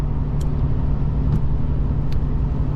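A 6.7 diesel truck runs with a steady low rumble heard from inside the cab, joined by a few brief faint clicks or squeaks, with no talking.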